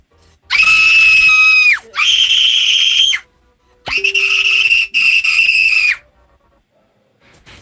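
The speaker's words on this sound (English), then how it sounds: "All of them start shouting and screaming loud." Girls shouting and screaming loudly in four long, piercing, shrill bursts separated by short gaps, close and intense, with no other talking.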